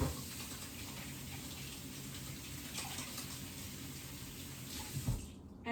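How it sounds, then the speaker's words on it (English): Warm tap water runs steadily into a kitchen sink while hands are washed under it, a constant close splashing rush that stops abruptly at the end. "put this to the side, and wash your hands"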